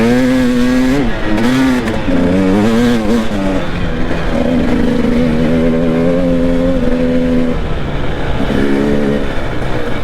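A 4x4 engine revs hard and labours up a steep, muddy green lane, its pitch rising and falling continuously as the wheels struggle for traction, loud and close with no talk.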